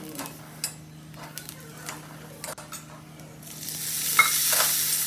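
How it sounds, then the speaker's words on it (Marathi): Green chilies roasting in a little oil in a pan, with scraping stir strokes and clinks of a utensil on metal, then a louder sizzle building near the end. "थोडंसं तेल टाकून मिरच्या भाजून घेतल्या"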